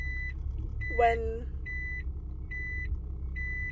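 A lorry reversing behind a parked car gives out regular high beeps, roughly one every 0.8 seconds, with a low engine rumble underneath and a brief spoken word partway through.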